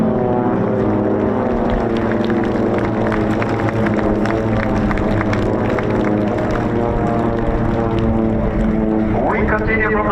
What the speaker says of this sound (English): Our soloist will demonstrate you the maneuverability of the PC-7 aircraft